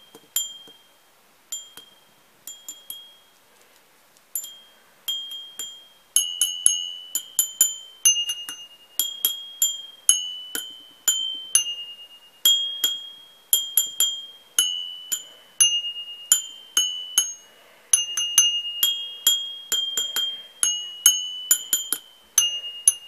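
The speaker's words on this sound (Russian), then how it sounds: "Видите, у каждого стакана свой звон." Crystal drinking glasses from a gift set with a decanter are tapped one after another with a small stick, giving a long series of bright, clear rings with short decays, each glass with its own pitch.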